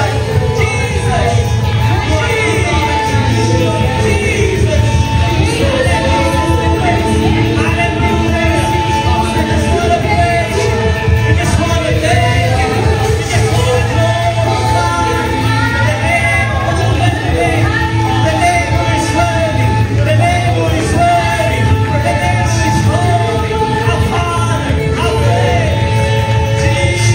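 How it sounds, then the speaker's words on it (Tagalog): A church congregation at a Filipino praise and worship service shouts and cheers loudly for God, a dense and sustained crowd roar over continuous worship music. "Malakas na sigaw para sa Diyos."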